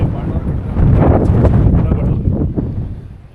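Wind blows at the Patte Pare viewpoint in Coorg during the monsoon, a gusty, rumbling roar buffeting the microphone up close, swelling in the middle and easing off toward the end.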